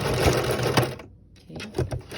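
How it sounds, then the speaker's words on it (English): A home sewing machine stitches elastic onto a stretch velvet mask, its close, loud motor whirring in short rapid bursts with a brief pause midway. "I'm going to stitch it in place on my sewing machine."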